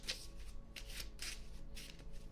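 A tarot card deck being shuffled, with several quick riffling bursts in a steady rhythm, close and soft.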